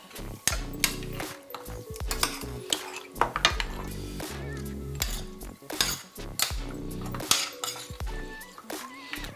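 A Haitian cow-foot stew seasoned with paprika is stirred again in a pot. A spoon knocks and scrapes against the metal in quick repeated strokes, loud and close, with ringing clinks throughout.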